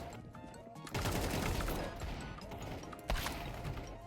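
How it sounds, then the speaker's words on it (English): Rapid bursts of paint-bullet gunfire in the video game Arc Raiders, a dense crackling run of shots starting about a second in, with a second loud burst near the end, fairly loud throughout. "I'm shooting casual paint bullets."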